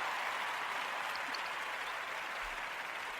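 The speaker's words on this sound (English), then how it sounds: "I think that actually deserves a little clap" Steady audience applause, a dense even patter of many hands clapping throughout at moderate loudness, with no talk over it.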